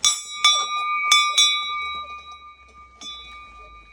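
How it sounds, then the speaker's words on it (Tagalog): A bear bell rings along a forest trail near Kamikochi, struck in several bright metallic jingles that leave long shimmering tones hanging between shakes, close by and clear, with a low rumble entering toward the end. "yung bear bell no. Kailangan natin siyang i-ring para lumayo yung bear kung meron man."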